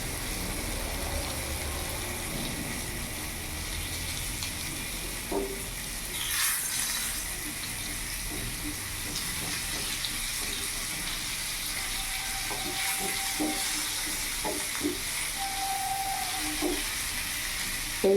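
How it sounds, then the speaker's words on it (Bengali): Masala-coated silver carp fries in a pan with a steady, even sizzle and occasional faint clinks of turning, without any talking. "এইভাবে উল্টে পাল্টে করে আমি ভেজে নেব"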